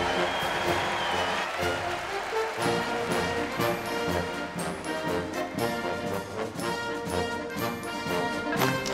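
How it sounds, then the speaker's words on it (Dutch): An audience at a big 50th-anniversary birthday concert keeps up steady applause and cheering while a voice talks over it and music plays. "Een applaus voor Frits."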